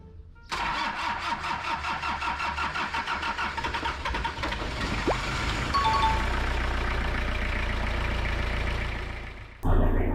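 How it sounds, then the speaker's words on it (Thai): A Toyota Mighty-X pickup engine is test-started after a fuel pump solenoid repair, the starter cranking rhythmically for several seconds before the engine catches and settles into a loud, steady idle, then a brief clunk near the end. "โอเคประกอบเสร็จแล้วเดี๋ยวไปลองเทสสตาร์ทดูนะ"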